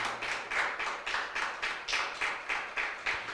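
Rhythmic unison clapping from a church congregation, about three claps per second in a steady beat, fairly quiet and with no voices over it.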